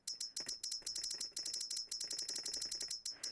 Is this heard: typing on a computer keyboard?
yes